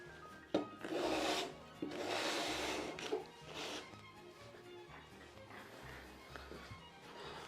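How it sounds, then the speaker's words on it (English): A card scraper works across a wooden door in a few short, rasping strokes, each a bright scratchy burst, with softer scraping and a couple of light knocks between them. "this works quite well with the card scraper"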